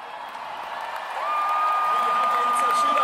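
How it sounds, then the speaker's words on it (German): Dense applause from a crowd at a concert in Leipzig swells and holds steady over a few seconds, with a sustained tone running beneath the clapping. "hol dir noch mal ein bisschen Applaus ab hier auf meiner Ecke"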